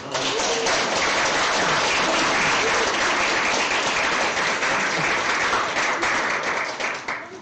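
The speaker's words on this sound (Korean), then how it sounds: "우리 박수 한번 합시다." A large church congregation applauds together, a dense, steady wash of clapping that holds for several seconds before starting to taper off.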